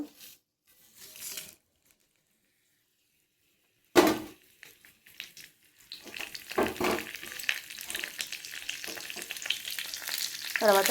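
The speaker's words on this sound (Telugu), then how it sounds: "ఇప్పుడు స్టవ్ పైన ప్యాన్ పెట్టుకుని నూనె వేసి పెట్టాను తాలింపు కోసం" Oil crackles and sizzles in a pan after a quiet start as it heats for spice tempering, with scattered stirring and popping sounds growing busier toward the end.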